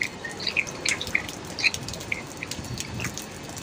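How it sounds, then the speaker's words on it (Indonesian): Rainwater dripping off a car after rain, a scatter of small, irregular drips and plinks landing near the microphone at a quiet level with faint background hiss. "Oh, air hujan dari mobil."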